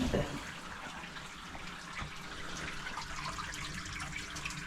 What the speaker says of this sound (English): I'll put the crank in the big hot wash now, just to give it a good rinse off.